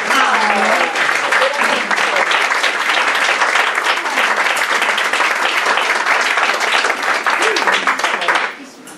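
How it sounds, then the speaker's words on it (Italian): A seated audience at a poetry book presentation for poet Pier Paolo Segneri breaks into loud, sustained applause that fills the room for about eight seconds before fading out. "al quale farei un grande applauso perché oggi è anche il suo compleanno"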